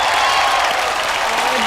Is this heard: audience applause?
yes